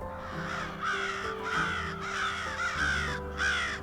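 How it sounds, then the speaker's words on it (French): Several crows caw loudly and repeatedly while harassing a great grey owl in an urban woodland, with harsh calls overlapping in irregular bursts over a steady background hum. "Les corneilles sont de plus en plus actives et harcèlent la chouette laponne qui est toujours présente dans le boisé."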